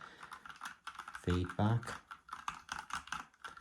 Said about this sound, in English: And typing on this is actually responsive. It's not spongy.